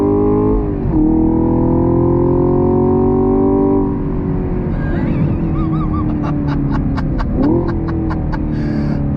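A 2022 Chevrolet Camaro SS 1LE V8 accelerating on throttle, loud and close, with a steady rising engine roar, a brief dip around each gear change and rhythmic crackling bursts near the end.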